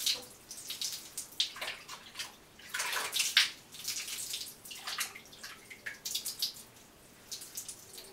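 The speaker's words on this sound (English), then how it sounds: "You use this small towel to let have some water and slightly wash his head." Water splashes and trickles as a baby's head is gently washed in the bath with a small towel, coming in close, uneven pours and drips with no talking.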